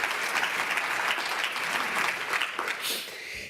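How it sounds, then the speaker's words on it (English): A keynote audience breaks into dense, sustained applause, many hands clapping together at full volume throughout the few seconds with no voices standing out. "Could we all give these folks a round of applause?"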